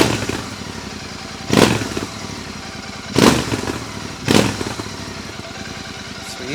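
Royal Enfield Continental GT 650 fitted with an AEW exhaust, baffle in, idling with a steady thump and then blipped through three sharp revs, loud and close.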